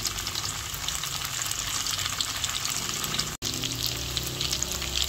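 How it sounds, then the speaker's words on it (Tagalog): Tofu frying in a pan with a loud, dense, continuous crackling sizzle close up, cut by one brief dropout near the end, no talking. "Akin na pong piniprito yung pong tokwa"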